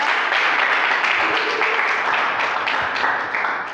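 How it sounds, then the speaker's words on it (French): An audience applauds for Santa, a volunteer called up at a church gathering, with steady, fairly loud clapping that holds for a few seconds before tapering off. "Applaudissez pour Santa"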